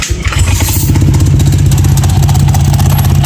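A motorcycle with a direct dry clutch cranks and fires up from cold, settling into a loud, steady, throbbing idle close by.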